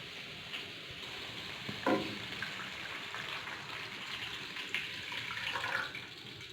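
Water runs and splashes steadily into a cooking pot of rice for several seconds, with a couple of louder splashy bursts, close by and without talk.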